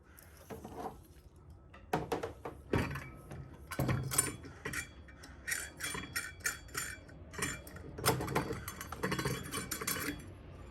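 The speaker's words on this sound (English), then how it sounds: "Put the washer and nut back onto the cable." A metal washer and nut are fitted back onto a threaded M14 cable while installing a surface mount VALTO base, giving close, bright metallic clinks and jingles in irregular clusters with short pauses between, with no one talking.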